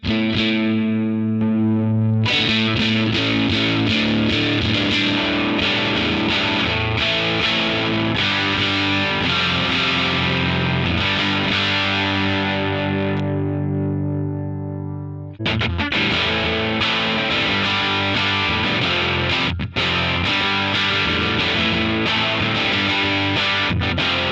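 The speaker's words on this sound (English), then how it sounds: "That's getting closer to the sort of boosted, tweedy, edge of fuzziness" Electric guitar through a boosted tweed-style amp with the boost cranked, fuzzy-edged strummed chords ringing out loudly and sustaining, with a brief drop in the middle before playing resumes.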